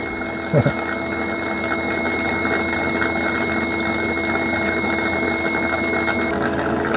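A Eufy S1 Omni Pro robot vacuum dock hums and whirs steadily while spraying water to wash the mop roller, a watery pumping sound running underneath, close and continuous, with a brief knock near the start.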